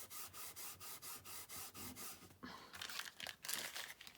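An embossing buddy is rubbed briskly over paper before heat embossing, making a quick run of about nine even, soft swishing strokes, followed by irregular crinkly handling noises.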